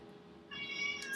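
A house cat meows once, a short, fairly faint cry rising in the second half, alone with no talk.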